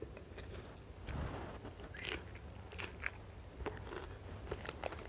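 Someone eating rice with chili paste, with soft close-up chewing and crunchy bites repeating irregularly, quiet and without talk.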